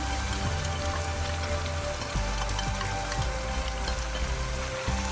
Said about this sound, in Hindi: दाल को भी हम 10 से 15 मिनट के लिए मीडियम फ्लेम पर अच्छे से भून लेंगे।